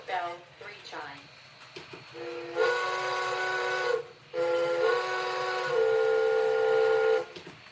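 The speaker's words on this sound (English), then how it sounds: "Hancock Short Bell 3 chime." Short toots give way to a loud Hancock Short Bell three-chime whistle, sounded in long sustained blasts separated by brief gaps.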